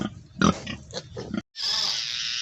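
A sow on a pig farm in Assam gives a run of close, rough grunts and snorts for over a second, then a steady hiss takes over after a brief gap.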